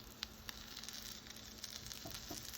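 Butter melting into olive oil in a frying pan, ready for eggplant, gives a quiet, steady sizzle with faint crackles and a few brief pops.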